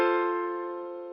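A single piano major chord struck once, ringing with a bright, clean tone and slowly fading over about a second, with no speech.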